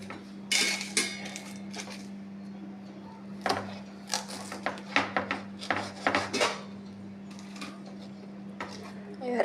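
A knife cuts through a palmyra tuber in irregular bursts of crisp chopping and scraping strokes, close and moderately loud, over a low steady hum.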